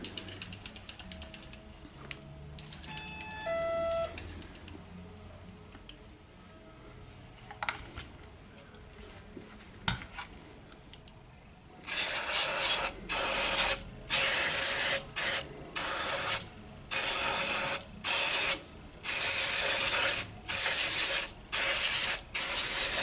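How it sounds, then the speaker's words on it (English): Degreaser sprays into a Paslode framing gun in a run of loud, close hissing bursts with short pauses between them, after a stretch of quieter clicking and handling noises. "degreaser, give it a good spray."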